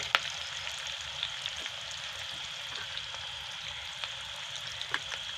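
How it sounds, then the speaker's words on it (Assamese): Ginger garlic paste sizzles steadily in a hot frying pan, a constant close hiss with faint crackles and small pops scattered throughout. "আৰু তাতে এতিয়া আদা নহৰু পেষ্টখিনিও দি দিম।"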